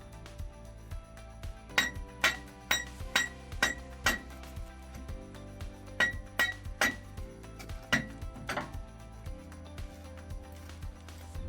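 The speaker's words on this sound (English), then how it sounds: "Gently tap the bar into place" Metal taps on the harp bar of a Portafill screen as it is seated: a series of sharp, clinking strikes in irregular clusters, close and clear over a low background hum, with no talk.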